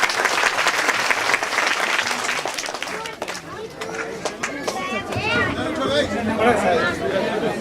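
An audience claps in loud sustained applause to welcome a guest at a religious book release ceremony, with crowd chatter and a speaker's voice mixed in as the clapping slowly thins.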